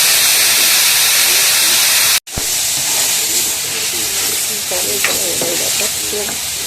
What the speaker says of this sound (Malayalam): ഉള്ളിക്ക് ആവശ്യമായ ഉപ്പ് ചേർത്ത് കൊടുക്കാം ഉള്ളി ചെറുതായി ഒന്ന് വറണ്ട് വരുമ്പോൾ അതിന് ഒരു ടൊമാറ്റോയും പച്ചമുളകും ചേർത്ത് കൊടുക്കാം